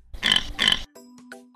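A cartoon pig in a children's animal quiz game lets out two quick snorting oinks, followed by a short chime of game tones.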